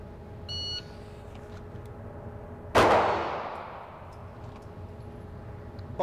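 A single sharp, loud pistol shot during a shooting drill, with a bright crack and a long fading echo, after a short electronic beep from a shot timer against quiet background hum.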